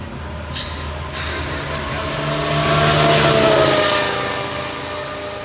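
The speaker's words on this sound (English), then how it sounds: "And the cars go by" Formula 1 cars roar past at the Imola circuit, a continuous loud engine wash swelling and fading as they pass, heard from trackside with no talking.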